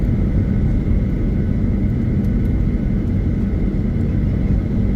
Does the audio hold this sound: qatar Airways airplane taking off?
yes